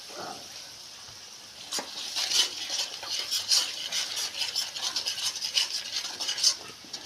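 Biryani masala stirred and fried in a pot with bay leaf, dry chilli paste and salt, giving a steady close scraping rasp and soft sizzle that starts after a quiet opening and continues with irregular spoon strokes.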